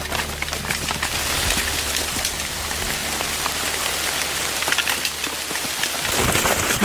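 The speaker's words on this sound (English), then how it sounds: "Rain suddenly poured down and swallowed every other sound." Heavy rain pours down onto a forest canopy and path, a loud, unbroken roar of drops with sharp patters and splashes close by.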